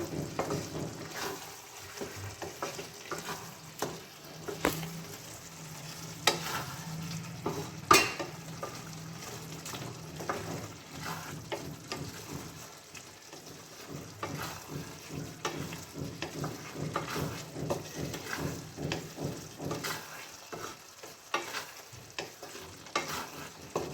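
Cabbage and new potato curry fries in a pan with a half spoon of garam masala, a steady close sizzle under repeated scraping stirs and occasional clinks of the spoon against the pot, with no talking.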